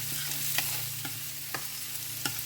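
Leftover rice frying in olive and sesame oil in a pan on a stove, a constant close hiss of sizzling with a few regular sharp taps of a utensil stirring, no voices.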